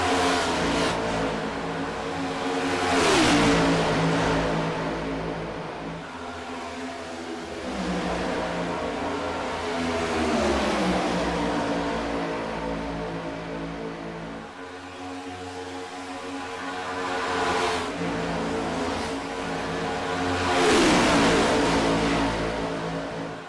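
IROC race cars circulate at Daytona, their engines swelling and fading in repeated loud pass-bys that roar steadily throughout with no talking.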